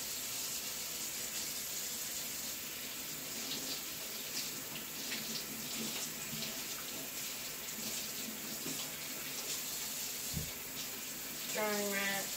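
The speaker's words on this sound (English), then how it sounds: "I washed my hands and my knife" Tap water runs steadily into a sink while hands and a kitchen knife are rinsed under it, a continuous close splashing flow with a brief clunk near the end, and no one speaks.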